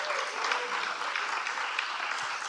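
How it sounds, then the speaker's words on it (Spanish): Audience applause for four women producers at a panel talk, a continuous even clapping from a crowd at moderate volume, steady from start to finish with no talking over it. "pido un fuerte aplauso para estas mujeres"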